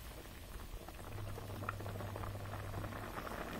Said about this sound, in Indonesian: Setelah mendidih seperti ini, aduk perlahan-lahan dan tunggu hingga kuahnya menyusut.